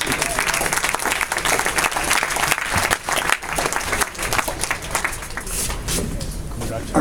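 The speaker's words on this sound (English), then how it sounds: "Big round of applause for our judges." A loud round of applause for the judges at an auto show awards presentation: close, dense clapping with cheers and crowd chatter mixed in, lasting throughout.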